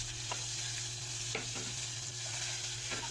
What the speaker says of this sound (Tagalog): Ayan, piniprito ko na siya.